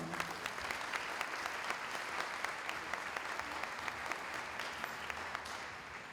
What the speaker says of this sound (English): Please, will you give a round of applause to Father Arrow.